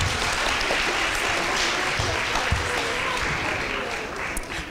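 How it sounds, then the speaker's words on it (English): Continuous applause from an audience at an elementary school music performance, a dense, steady wash of many hands clapping that holds for several seconds before easing slightly at the end. "Give them a round of applause for me."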